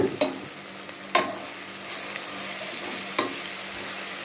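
Sliced onions and green chillies with salt sizzle steadily in a pan, with a few sharp stirring scrapes and knocks of a spoon near the start and middle, close by and with no voices.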